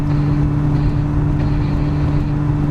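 Supercharged LS9 V8 in a 1969 Camaro on a test drive, a loud, steady low rumble with a strong tonal drone at constant speed and no talk.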